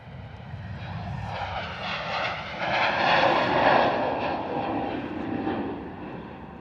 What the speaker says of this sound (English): Turkish Airlines A321 Neo heading out to Istanbul